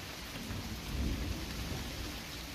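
Steady rain pours down and patters on a vine-covered shelter while low thunder rumbles underneath, swelling briefly at mid-clip, with drops striking close to the microphone.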